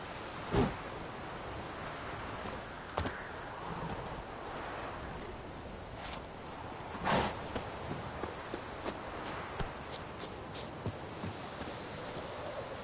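Hoofbeats of the horse Roach in The Witcher 3 thud along in a loose, uneven rhythm over a faint wash of ambient noise, fairly quiet and without talk.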